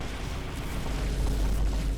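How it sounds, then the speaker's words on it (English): In a modded Factorio game, explosion sounds replaced by vine boom effects give a dense, continuous roar of overlapping deep booms and rumbling blasts, loud and sustained with no talking. "the replacement of explosion sounds with vine booms"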